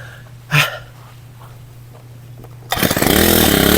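A grass cutter engine for trimming a lawn, first a brief pull-start burst and quiet idle, then it roars to full loud buzzing power close up in the last second.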